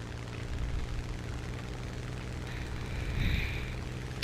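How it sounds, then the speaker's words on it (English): A P-400 fighter in War Thunder takes off, its engine a broad, steady roar that swells slightly toward the end, with no voices over it. "Look at a magnificent takeoff and a giant landing gear which retracts in no time."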